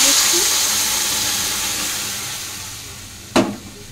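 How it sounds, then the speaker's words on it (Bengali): Hot water poured into a pan of fried potatoes bursts into a loud steaming hiss that slowly fades over a few seconds, ending with a sharp clatter. "তো যেহেতু গরম জল দিয়েছি ওই জন্য দেওয়ার সাথে সাথে এরকম ফুটে গেছে"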